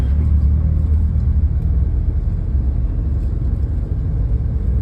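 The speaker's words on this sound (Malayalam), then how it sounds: "ഒന്നുകൂടെ ത്രോട്ടിൽ കൊടുത്തിട്ട് ഇടാൻ പറ്റുമോ നോക്ക്" A car engine runs at steady throttle during a driving lesson, a loud continuous low rumble and whir filling the whole stretch with no break.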